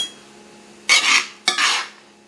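Braised pork chop in jalapeño sauce being plated: two sharp clatters of dishes and utensils about half a second apart, close and fairly loud, over a quiet kitchen background with no talk.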